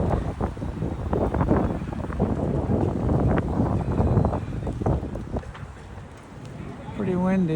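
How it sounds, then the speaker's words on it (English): A large American flag near Independence Hall in Philadelphia flaps in strong wind, with gusty rushing and rippling fabric noise buffeting the microphone, and a person speaks briefly near the end. "It's your basic American flag blowing in the breeze."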